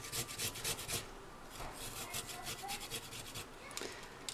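An ingredient for vegetable lo mein is grated on a hand grater in quick, raspy rubbing strokes, bursts at first and then a continuous scrape. It is faint and close, with no talk.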